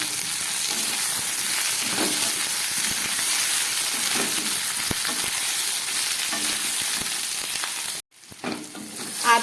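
Spices with a little Kashmiri chili powder frying in a pan for a light fish curry, making a dense, continuous close sizzle with faint stirring scrapes, cut off abruptly near the end before a brief return of hissing.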